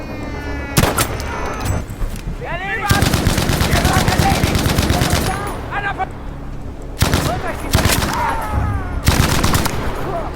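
Loud bursts of rapid automatic gunfire from Battlefield 5, several volleys separated by short gaps, with a voice speaking between them.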